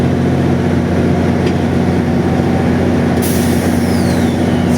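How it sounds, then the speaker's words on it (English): GO Transit MP40PH locomotive 607 pulls a 12-car train out of Eglinton GO station on the Lakeshore East line, with a loud, steady diesel roar and a sharp hiss of air near the end. "MP40 engine 607 is departure at Eglinton GO station, pulling 12 cars"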